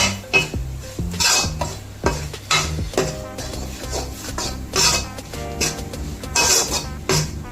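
Ground spices, Kashmiri chilli powder and fish masala sautéed in a pan for a fish head curry, with repeated clanking spoon-against-pan stirring strokes over a steady sizzle, close and fairly loud, with no talk.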